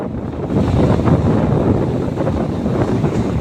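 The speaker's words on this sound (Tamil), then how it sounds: "ஆனால் காற்று இங்கேயும் பயங்கரமான காற்று தான்." Strong, steady wind blasts across the microphone at a saltwater seashore, a dense, loud roar with surf-like wash underneath and no voices.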